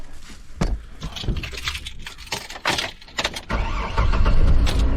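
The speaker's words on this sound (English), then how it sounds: "let us go start the vehicle" Keys jangle and clicks sound inside a car, then the engine cranks and catches into a steady running rumble toward the end.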